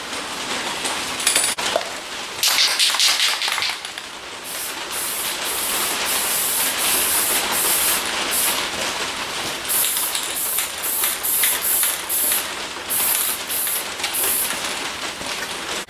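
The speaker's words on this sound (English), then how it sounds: "So I'm going to spray it with this matte spray and see what happens." Matte spray paint hissing from an aerosol can onto a stormtrooper action figure, delivered in a series of short bursts with brief pauses between them, close and fairly loud.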